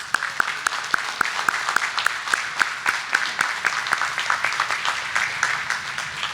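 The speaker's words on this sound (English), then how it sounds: "Please, a round of applause." Steady applause fills a commencement ceremony hall, with a rhythmic clap standing out sharply above the broad sound of the crowd clapping.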